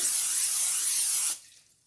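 A steady cooking oil spray hisses loudly onto a bowl for over a second, then cuts off abruptly, leaving faint quiet.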